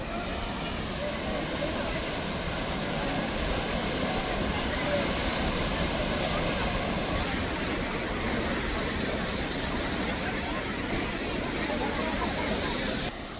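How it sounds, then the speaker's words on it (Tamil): Athirappalli waterfall roaring as a steady, broad wash of falling water at moderate volume with no breaks, while people talk faintly underneath. "அதிரப்பள்ளி அருவி."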